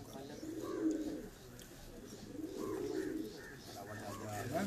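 Show pigeons coo on a rooftop in rounded, repeated throaty phrases, rising and falling several times, while someone talks faintly in the background.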